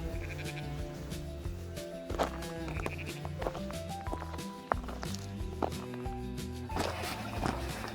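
Sheep bleat here and there outdoors at a campsite in Wasdale, England, fairly faint, mixed with shuffling hooves and background noise.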